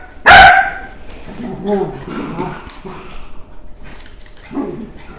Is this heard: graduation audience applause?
no